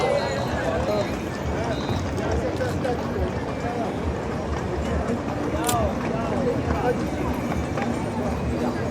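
Horses' hooves clip-clop on pavement as a horse-drawn carriage passes during the Feria de Abril in Seville, a busy, dense clatter under steady crowd chatter and nearby talking.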